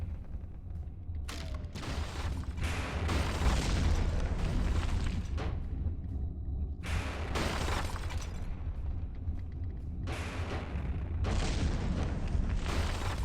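Cannon rounds bursting against a warship's hull in the naval combat game From the Depths, a sustained bombardment of heavy booms and crackling impacts rolling almost without pause, with several sharp bursts standing out.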